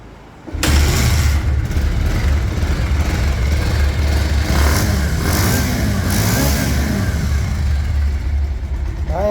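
A 2019 Bajaj Pulsar single-disc motorcycle with about 11,641 km on it starts up and runs at a steady, loud, even idle close by, with no voices over it.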